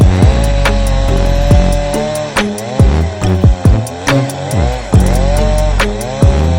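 Rapid, loud chopping of trees in Minecraft, rhythmic sharp impacts with blocks breaking and falling in quick succession, layered over steady game music.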